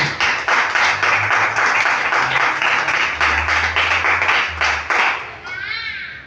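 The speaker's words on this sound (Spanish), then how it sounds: "Denle un aplauso al Señor, hermano." A church congregation applauds steadily and loudly for several seconds with dense, continuous clapping, some voices mixed in, before the applause thins out near the end.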